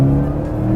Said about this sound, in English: You either love that Boxer engine noise or you don't.